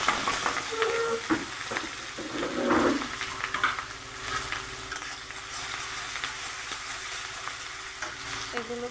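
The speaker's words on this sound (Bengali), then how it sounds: "এগুলো ভেজে নিই, তারপরে একে একে মশলা সব দিয়ে দেব।" Onions and green chillies fry in oil left over from frying fish, with a busy nearby sizzle, scraping stirs of a utensil against the pan and occasional clinks, and no talking.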